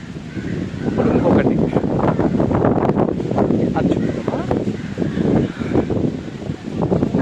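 Strong wind blasts straight into an uncovered phone microphone outdoors near a church, producing a loud, continuous low roaring buffet that surges and dips without pause across the whole stretch.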